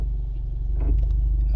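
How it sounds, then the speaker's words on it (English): A manual transmission car's engine idles with a low steady rumble, then the revs shift slightly as the clutch is slowly let out, close and fairly loud. "if I'm letting go of the clutch slowly, you see how the RPM's kind of changed?"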